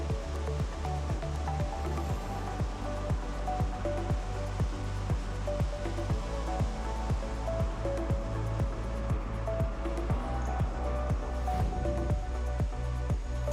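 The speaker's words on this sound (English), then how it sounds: "The water flowing by is used to cool down the incredible heat produced by the saw." Cooling water rushes past a 79-inch rotating saw cutting steel beams in a mill: a loud, steady roar of flowing water with a regular thumping beat underneath.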